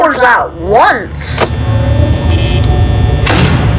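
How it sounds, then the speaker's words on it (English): Security doors in the Five Nights at Freddy's video game shut with brief mechanical clanks, two of them closing close together, over a low electric hum while a voice exclaims at the start. "Oh, two doors at once."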